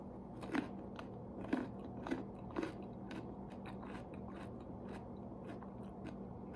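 Raw broccoli stem being chewed, a few crisp crunchy bites near the start followed by softer repeated chewing and crackles, close and quiet with no talking.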